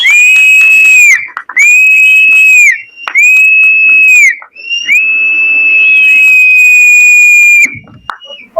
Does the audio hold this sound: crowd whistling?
yes